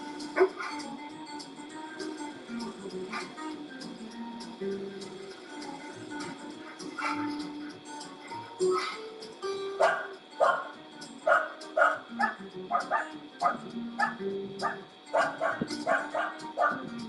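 A dog barks and yips in a Subaru Crosstrek commercial, starting with softer whimpers and building into a run of sharp, rapid barks, with voices in the background.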